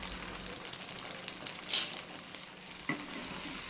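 Eggplant for thokku sautes in oil in a pan, giving a steady close sizzle with a couple of brief stirring scrapes, and no voices.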